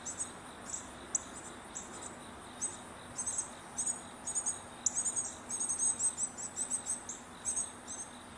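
Insects outdoors in a garden in fall, a steady high chirring like crickets with rhythmic bursts of chirps growing busier toward the end, faint and distant over quiet ambience.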